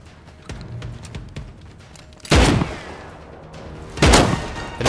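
Gunfire in the survival game Rust, with a few light distant pops followed by two loud, close shots spaced about two seconds apart, each with a short echoing tail.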